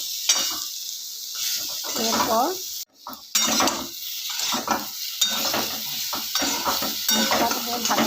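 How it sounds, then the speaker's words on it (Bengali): Spices and spinach fry and sizzle in a pan while being stirred, with steady hissing, scraping and clinking of a spoon against the pan, close by, with brief speech at one point. "ভালো করে মশলাটাকে ভাজছি"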